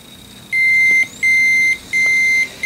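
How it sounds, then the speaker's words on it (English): Ricoh Lanier copier sounding a stuck-print-job alert: four steady, high-pitched beeps about half a second long, evenly spaced and loud against a faint background hum. "Have you ever sent a print job over to your copy machine to hear that annoying beep"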